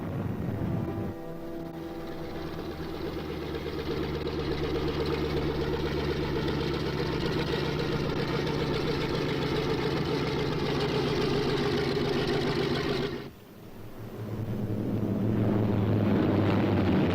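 A B-26 bomber's piston engines drone at a steady, even pitch for a long stretch, then the sound briefly dips in a sudden drop before the roar swells back at full strength.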